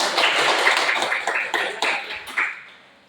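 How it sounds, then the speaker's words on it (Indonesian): A classroom of students breaks into applause, a dense burst of many hands clapping together that rattles on with a few sharper claps before fading out toward the end. "Tepuk tangan dulu."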